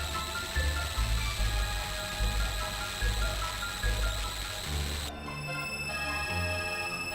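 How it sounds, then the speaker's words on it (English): Whirring, ratcheting game effect as a Chrono Trigger character is blasted into energy particles and sucked into a blue portal, a steady mechanical churn that cuts off abruptly near the end into a thinner tone. "she gets blasted into a few energy particles and sucked into this blue portal"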